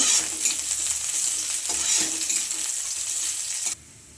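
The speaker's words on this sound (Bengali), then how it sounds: "এবার এগুলো ভালোভাবে ভেজে নেব।" Chopped onion, garlic and dried chili fry in hot oil in a pan for a masoor dal, giving a steady, close sizzle with occasional stirring scrapes that cuts off abruptly near the end.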